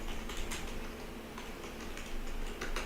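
Keys on a computer keyboard tapped in a few quick, light bursts while entering degree values for astrology chart calculations, close and steady over a faint room hum, with no talking.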